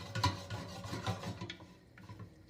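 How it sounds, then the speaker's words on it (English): A spoon stirring food with stock in a pan over low heat, a few scraping and rubbing strokes close by, the first two louder and the rest softer, with no talking. "continue cooking that again, still very slowly, stirring quite a bit"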